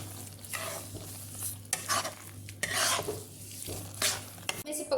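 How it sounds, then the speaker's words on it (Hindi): Spoon stirring carrot halwa with sugar and dry fruits in a pan, soft repeated scraping and gentle sizzling in uneven strokes, close and fairly quiet under a steady background hum. "और अब मैं इसे मिक्स कर दूँगी।"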